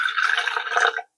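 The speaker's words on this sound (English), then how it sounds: "See if I can do a clean pour here." Liquid lactic acid bacteria extract poured cleanly into a container, a brief close trickling splash that stops abruptly.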